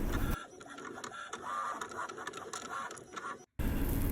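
A Light Cut vinyl cutting machine cuts out a design, giving a steady, busy mechanical whir with rapid clicking and ticking of the carriage, close up and alone, cut off by a brief silence near the end.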